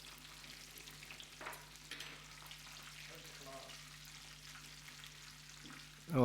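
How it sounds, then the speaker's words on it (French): Chicken wings fry in a pan with a quiet, even sizzle and occasional crackles, heard close by with no talk, and a brief louder clatter at the very end. "positionner mes ailes de poulet par-dessus. Voilà, on les fait cuire."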